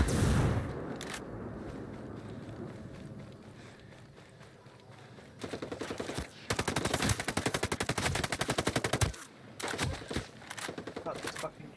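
A video game gun fires in rapid automatic bursts, with loud crackling volleys separated by brief pauses. Quieter background noise and movement sounds come first.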